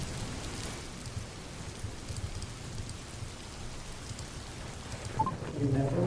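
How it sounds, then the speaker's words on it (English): Steady heavy rain pours throughout, a dense wash of noise that swells louder near the end. "all of a sudden, the storm cuts back in, louder, more oppressive this time"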